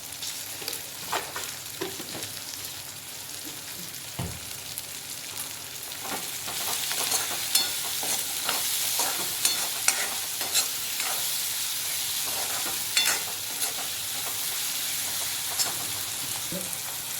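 Onions cook in a pan with salt added, giving a steady soft sizzle broken by scraping stirs and occasional clinks of a utensil against the pan, heard alone at moderate loudness.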